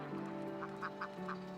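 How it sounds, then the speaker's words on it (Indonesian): A flock of dozens of ducks quacks as they are herded from one rice paddy plot to another, giving a quick run of nasal quacks over a steady background drone. "Dengan panggilan yang khas, puluhan bebek digiring dari satu petak sawah ke petak yang lain."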